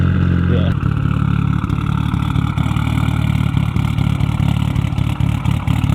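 A Mitsubishi Evolution 5 rally car with a Bitzer straight-through exhaust idles loud and close with a rough, lumpy burble, a sharp blip near the start, then a steady throaty drone.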